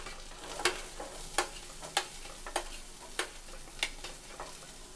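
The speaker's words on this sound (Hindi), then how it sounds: "अच्छे से मिला लेंगे और साथ ही हम इसमें डाल देंगे 1 बारीक कटी हुई प्याज" A spoon scrapes and stirs finely chopped onion with ginger garlic paste in hot oil in a pan for bhindi sabzi, about seven sharp, evenly spaced strokes over a soft, steady sizzle, close and alone.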